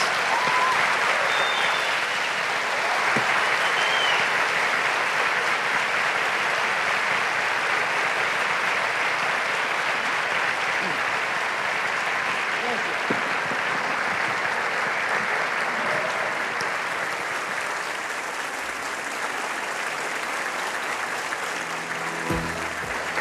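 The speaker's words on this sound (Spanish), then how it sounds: "En medio de aplausos y de una gran admiración es despedido el doctor Rodolfo Ginás" Sustained audience applause at the Bogotá Book Fair farewelling neuroscientist Dr. Rodolfo Llinás, a dense, even roar of many clapping hands that continues loudly without a break for over twenty seconds.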